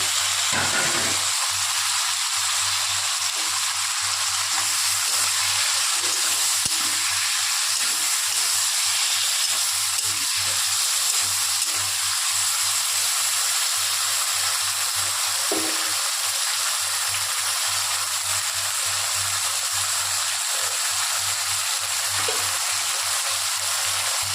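Chili paste and cumin fry in oil for a Bengali fish curry, a steady loud sizzle and hiss running throughout with faint stirring scrapes and no talk.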